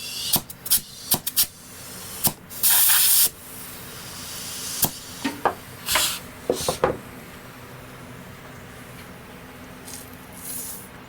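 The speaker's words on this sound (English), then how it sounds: "So you'll hear some air coming out because there's air trapped in and around the tube." Air trapped around the inner tube of a Huskee heavy duty tiller tire escapes in short, close hissing bursts, with one longer steady hiss near the start and scattered clicks between them.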